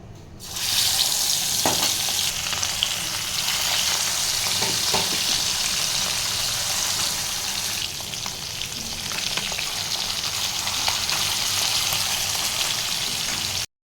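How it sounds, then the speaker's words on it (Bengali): Koi fish fry in hot oil in a wok, giving a loud, constant crackling sizzle that runs without a break, with a few faint stirring scrapes. "এখন আমি কই মাছগুলো ভালো করে ফ্রাই করে নেব।"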